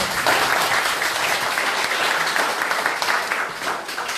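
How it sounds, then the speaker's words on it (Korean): A hall audience applauds a Bareunmirae Party leadership candidate before a campaign speech, producing a thick, continuous wash of clapping at close range for the full four seconds with no break. "박수 좀 부탁드리겠습니다."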